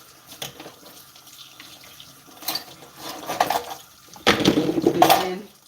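Hot tap water running into a sink while cutlery is rinsed, starting faint then swelling into a loud close gush with light metallic clinks of utensils.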